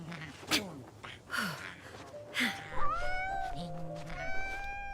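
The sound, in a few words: cat meowing in Genshin Impact video game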